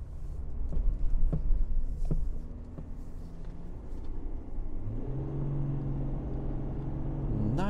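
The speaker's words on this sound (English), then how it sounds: "Nice acceleration." A 2020 Chevrolet Silverado 1500 RST pickup accelerates on the road, heard from inside the cab. There is low rumbling road noise first, then the engine climbs into a rising, steady drone.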